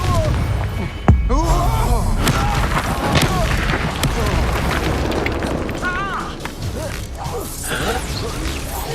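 Spell effects in the Hogwarts Legacy video game, including the Confringo explosion spell, fire amid a loud, dense wash of booms, crashes and mechanical rumbles during combat, with voices and battle cries mixed throughout.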